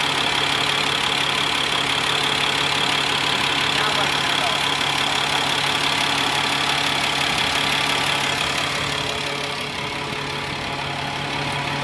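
A truck engine with a weak turbo and a possible throttle body fault runs steadily at raised revs, a continuous droning hum with faint knocking that barely changes and eases slightly near the end.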